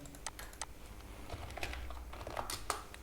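Keys on a computer keyboard clatter in a steady, close run of quick taps while code is typed for a simple JavaScript weight converter app, with no voices.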